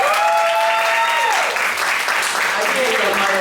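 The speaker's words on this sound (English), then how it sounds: "You can clap." Audience applause at a live drag-queen Dungeons and Dragons show in a bar, sustained clapping throughout while a voice and some crowd noise sit on top early on.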